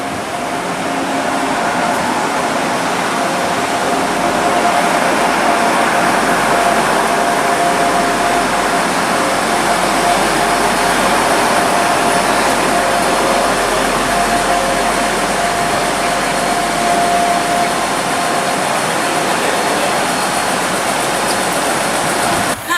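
A British Rail Class 175 diesel multiple unit, 175-107, pulls away from a station platform, its engine drone and rolling noise forming a loud, steady, continuous roar with a faint tonal whine throughout.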